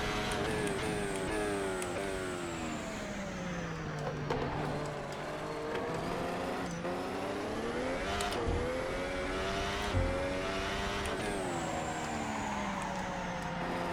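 A rally car engine in the game DiRT 4 drones and revs steadily on a dusty track, pitch rising and falling through the gears with wheel spin, loud and close with no talking.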